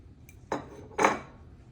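A spoon scrapes and clinks twice against a mixing bowl of coconut pecan muffin ingredients with dark chocolate, chopped cranberries and almond flakes, two short close strokes in an otherwise quiet kitchen.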